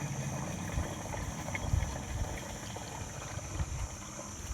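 Water gushes steadily from a newly drilled farm borewell pump, a continuous rushing, churning flow with low rumbling, heard close and alone.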